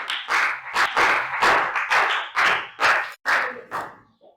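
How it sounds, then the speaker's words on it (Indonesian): A classroom group claps for a student, about eight short bursts of clapping in an uneven rhythm, close and fairly loud, fading at the end. "beri tepuk tangan untuk Mas Detya"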